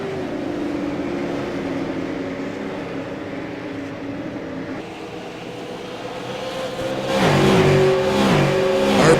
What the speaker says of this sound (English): Craig Covington, the 96 machine, the City Chevrolet, right there behind the Tide machine of John Hastings into turn 1 here on lap 30